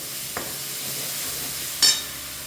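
Sour tomatoes fry in hot oil for chicken biryani, a steady sizzling hiss with a light knock early on and a brief louder stir-scrape near the end.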